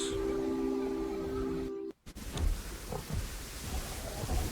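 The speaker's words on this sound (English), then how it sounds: "The next morning, the rain is different. It is acid rain, a dangerous form of rain that can burn off flesh." Rain falls steadily in a volcanic landscape in a Jurassic World Evolution modded film, with a rumble of thunder breaking in after a brief dropout and heavy rain continuing.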